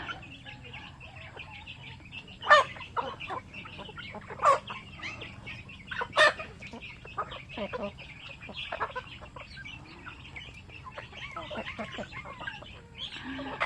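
Thai native chickens and bantams clucking at feeding time on a small farm, scattered short calls and a few louder squawks over quiet background, with people talking faintly.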